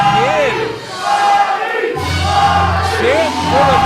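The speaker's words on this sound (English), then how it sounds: "Chant for the Brass Bull." A wrestling crowd at an IZW Adrenaline independent show chanting for the wrestler the Brass Bull, loud rhythmic massed voices rising and falling, with a few shouted calls over the chant.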